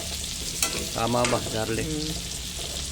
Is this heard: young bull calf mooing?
no